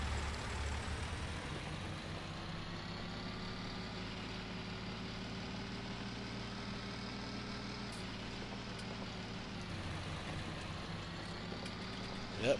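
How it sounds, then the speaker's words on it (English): A small Fiat tractor engine in Farming Simulator 19 runs with a steady, gurgly low idle that carries on unbroken for the whole stretch, fairly loud and close, with no voices over it. "I love the way this tractor sounds too."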